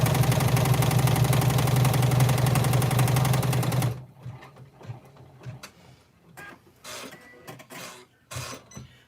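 Embroidery sewing machine stitching the final seam of a bag, a loud, rapid, steady mechanical chatter for about four seconds that then stops abruptly, leaving quiet clicks and faint handling noises.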